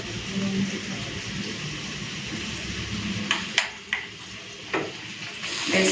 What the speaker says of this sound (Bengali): তো এইভাবে 2-3 মিনিট একটু নাড়াচাড়া করে নিয়ে মশলাটাকে ভালো মতো কষে নেব।